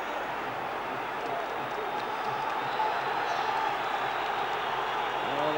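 Stadium crowd noise at a European Cup group match between Glasgow Rangers and Olympique Marseille, a broad steady roar of supporters cheering Rangers, sustained and fairly distant with no distinct voices standing out.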